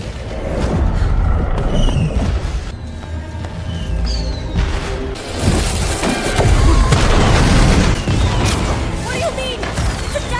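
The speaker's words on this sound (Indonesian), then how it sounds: "Casey memulai rencananya untuk menyerang Eskil dengan serangan kembang api" In a film scene, fireworks are set off as an attack: a string of heavy booms and crackling bursts with whistling streaks, loud and chaotic, layered over the action's rumble.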